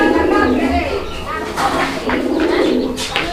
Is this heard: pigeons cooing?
yes